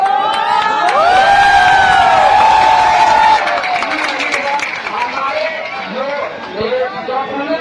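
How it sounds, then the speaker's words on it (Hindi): A crowd at a Bihar political gathering cheers and shouts in welcome, loud and close, with rising excited voices and babble, while faint clapping is mixed under the cheering. "मैम का तालियों से स्वागत कीजिए।"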